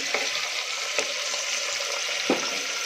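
Chhole pulao with added cut potatoes sizzling and frying steadily in a pot while being stirred, with a few soft scraping knocks of the spoon against the pot, close and continuous.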